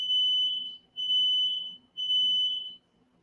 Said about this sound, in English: Somebody fire alarm is going off.